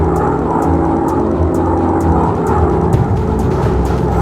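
A World War II-era bomber in a 1945 war video game drones over a target, a loud, steady propeller-engine hum with faint regular ticking layered on top.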